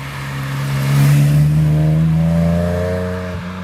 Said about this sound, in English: I don't mind paying a little bit more to have that nice rumble and the nice pop